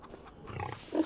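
A pig in Farming Simulator 25 gives a short, close grunt that rises at the end, alone and brief.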